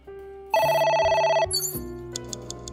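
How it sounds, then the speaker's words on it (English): A telephone rings in the video game AI: The Somnium Files, with a loud, steady electronic ringtone that sounds for about a second and then gives way to softer game tones. "It's ringing again."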